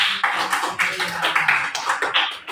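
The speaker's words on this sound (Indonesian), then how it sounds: "Baik, tepuk tangan." A classroom of students breaks into applause after a group performance, a dense, continuous patter of many hands clapping at steady loudness for a couple of seconds.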